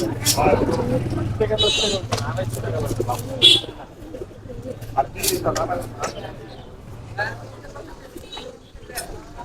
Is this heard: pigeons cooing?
yes